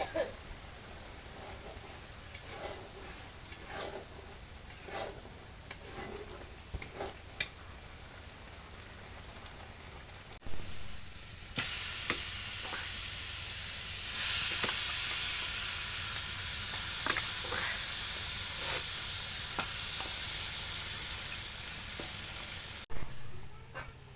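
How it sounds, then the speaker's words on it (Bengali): Beef cooking in mustard oil sizzles and fries, starting as a moderate crackle with scattered pops, then swelling into a loud, dense hiss around the middle before cutting off near the end. "আজকে গোশত রান্নার সময় সাথে একটু সরিষার তেল দিয়ে দেবো"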